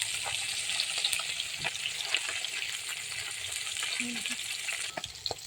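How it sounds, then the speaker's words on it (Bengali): Fish coated with salt, turmeric and mustard oil sizzling in a hot wok, a steady quiet hiss with occasional spatters and stirring clinks, no talk over it. "নুন হলুদ আর একটু সরষা তেল দিয়ে মেখে ভালো করে গরম করে কড়াইয়ে দিয়ে দিচ্ছি"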